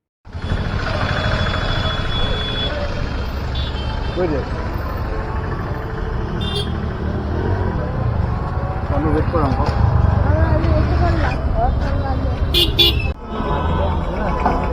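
Steady engine drone and road noise from a moving auto rickshaw on the way to a boat worship ceremony, with occasional horn toots and a ringing bell, while people talk over the ride.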